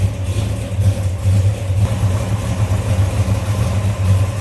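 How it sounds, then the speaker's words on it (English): A 440 Super Commando V8 engine in a 1967 Plymouth Belvedere GTX idles steadily nearby, a low rumbling throb with a slightly uneven lope, running alone without any voices. "check out this engine, 440 Super Commando"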